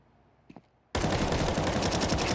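Shotgun gunfire in a competitive video game match, a faint click and clatter followed by an abrupt, loud, continuous burst of rapid firing that fills the rest of the moment.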